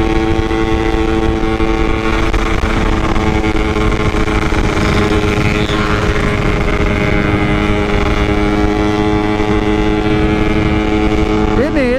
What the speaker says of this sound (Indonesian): Ini tadi mesinnya tuh ngeletek parah banget.